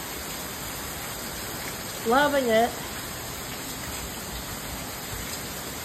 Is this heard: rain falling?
yes